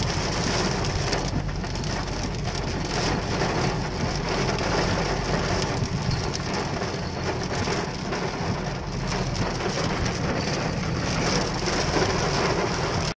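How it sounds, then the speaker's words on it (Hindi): Heavy rain pours steadily and loudly, a dense broadband hiss with drops pattering throughout and no voices. "लेकिन उतनी ज्यादा बारिश हो रही है"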